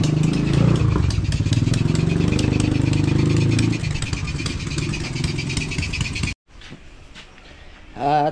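A motorcycle with a removed bearing runs with a rough, clattering mid-pitched engine note, idling steadily before cutting out abruptly, then a brief quieter stretch.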